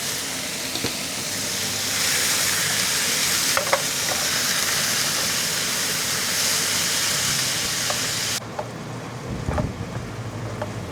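Minced beef stir-fries in hot oil in a pan, a steady close sizzle with intermittent scraping and stirring clicks; the sizzle drops in level near the end while the stirring continues.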